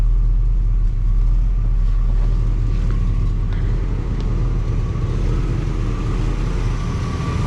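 A 1979 Pontiac Trans Am 10th Anniversary, revived after sitting for 30 years, its V8 running with a steady, loud, deep rumble heard close up and continuously, with no voices.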